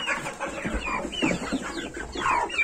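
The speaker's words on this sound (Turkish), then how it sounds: "Tavuk nereye gitti ki burada? Ha, tavuk burada." Chickens cluck and chatter in a farmyard with chicks around, several birds making repeated short calls close by in a lively, overlapping stream.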